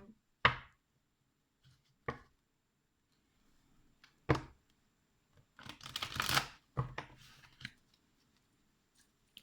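Tarot cards being shuffled by hand in a quiet room, a few short sharp riffles spaced out, then a longer burst of rustling and snapping, close and fairly soft.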